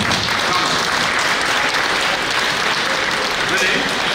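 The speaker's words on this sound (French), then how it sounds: "Je vous demande de les applaudir très fort." A crowd at the closing ceremony of a chess tournament in Brest gives loud, dense applause for young players, continuous clapping filling the room with voices murmuring underneath.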